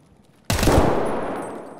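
A sudden close burst of automatic gunfire in the video game Escape From Tarkov, one loud crack followed by a long ringing tail, with no talking.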